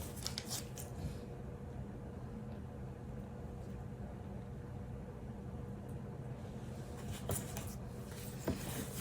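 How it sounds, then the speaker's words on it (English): Faint scissor snips cut the tip off a plastic piping bag of chocolate near the microphone, a few short crisp clicks over a low background hum, with no talking. "I'm going to cut the very tip off with some scissors."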